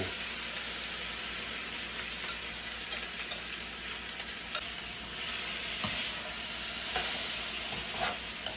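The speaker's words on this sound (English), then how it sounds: "my olive oil is heating up. Go ahead and dump my vegetables in" Vegetables sizzle in hot olive oil for vegetable fried rice, a steady, dense frying hiss held close throughout with faint stirring ticks and scrapes, no talk.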